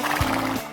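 A quarter horse on a Hawaiian ranch gives a short, close neigh that rises and fades within a second, with a soft hoof thud under it.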